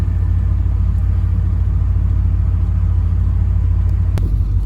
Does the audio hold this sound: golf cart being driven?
yes